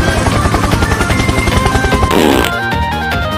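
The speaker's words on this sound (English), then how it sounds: "Helicopter!" Helicopter in a stickman dismounting video game, its rotor beating in a fast, loud, regular chop amid game sounds, then abruptly cut off into quieter music-like tones.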